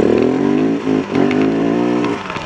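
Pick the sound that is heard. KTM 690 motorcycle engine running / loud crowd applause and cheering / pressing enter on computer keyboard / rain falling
KTM 690 motorcycle engine running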